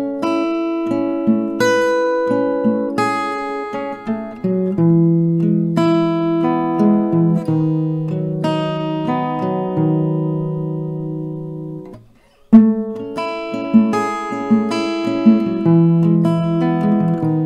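Acoustic guitar playing a picked round from a song, clear plucked notes ringing close and loud with a steady rhythm, a brief pause near the end before the pattern resumes.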